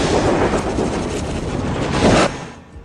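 Heavy gunfire in a steady dense roar of overlapping shots and rumble, loud and continuous, cutting off abruptly near the end.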